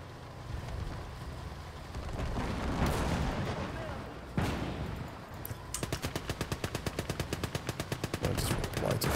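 Artillery and gunfire from the World War II strategy game Gates of Hell: Liberation, a dense battle din of booms and shots, with a big blast near the midpoint and then a fast, steady machine-gun rattle under faint speech.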